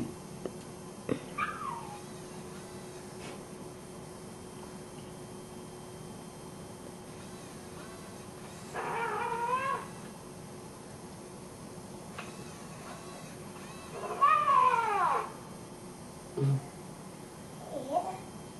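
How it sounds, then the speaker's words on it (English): A cat gives a few separate meows with long quiet gaps between them, two louder drawn-out calls near the end over a low room hum. "He's purring."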